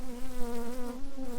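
Honey bees buzz steadily around an open double deep brood box hive with a heavy, honey-filled frame being lifted, a close, continuous drone with a clear pitched tone that wavers slightly throughout.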